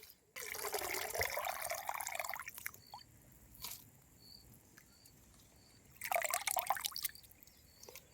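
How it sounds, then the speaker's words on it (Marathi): Leafy wild monsoon greens are rinsed in water to clear rain-splashed soil, giving two loud bursts of sloshing and splashing separated by a quieter stretch of scattered drips, close by with no talking. "मस्त दोन तीन पाण्याने भाजी धुवून घ्यायची"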